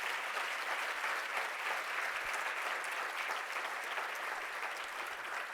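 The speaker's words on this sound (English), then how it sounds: "let's give her a round of applause" Steady, sustained audience applause at a luncheon honoring a new United States Senator, Kamala Harris, filling the room evenly for several seconds with no break.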